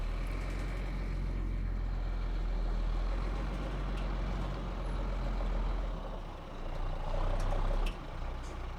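A truck delivering building blocks rumbles at close range with a steady low engine drone, shifting and briefly louder near the end with a hiss like air brakes.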